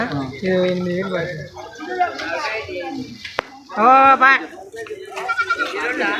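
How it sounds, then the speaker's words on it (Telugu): Goats at a weekly goat market bleat loudly and close by in several wavering, drawn-out cries, interleaved with people talking nearby. "ఇది ఒక మేక చెప్పరా ఇది ఒక మేక"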